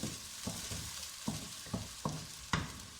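Onions fry in a pan with a constant bright sizzle, punctuated by regular scraping knocks from stirring roughly every half second.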